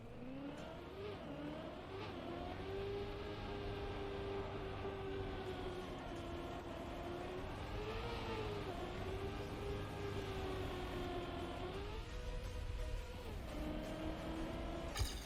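A racing game car on a snowy track, its engine revving continuously, pitch climbing and then dropping sharply at each upshift, with a few audible gear changes over a steady droning run.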